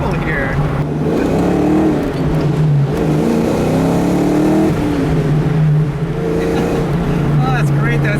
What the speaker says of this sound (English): hearing that V8, it's just great. I mean, this is probably the cheapest way to get this awesome sound